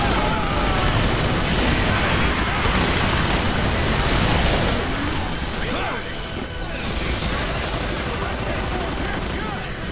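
Gunfire in Earth Defence Force 5 rattles on continuously, dense and loud, with mechanical clatter and booms mixed in, while a voice talks over it.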